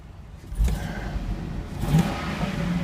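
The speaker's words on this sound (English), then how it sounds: "you can hear the engine from outside" A 2003 Hummer H2 SUV engine turns over and revs, its deep rumble swelling twice before holding a steady throaty idle, heard fairly close from outside.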